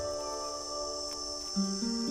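A cicada perched on a camel thorn acacia gives a continuous, even, high-pitched buzzing call, close and steady for the whole stretch, with no voices.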